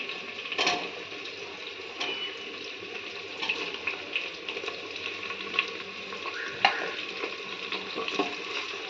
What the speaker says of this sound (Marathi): हिरव्या मिरच्या चांगल्या तेलात परतून घ्यायचे